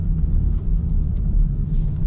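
A BMW i4 electric car at an autocross course puts out a low, steady synthetic drive hum with a rumbling undertone, continuous and fairly close, with no speech.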